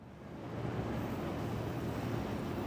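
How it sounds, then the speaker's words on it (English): The Esperia Glaive ship's engines in the space game Star Citizen give a steady, fairly soft low rumbling whoosh that swells slightly at the start and then holds even, with no talking. "The engines sound kind of weak."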